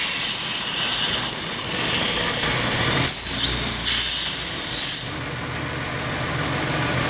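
A Lincoln LS engine runs after being suddenly leaned out, giving a steady, loud hissing mechanical drone that swells for a few seconds and then settles back to a lower, even hum, with no talk.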